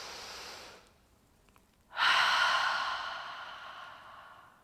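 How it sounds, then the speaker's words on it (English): A deep breath filling the stomach: a soft, faint inhale, a pause, then a strong, close, airy sighing exhale that trails off slowly. "Just take 3 deep, deep breaths, filling the stomach."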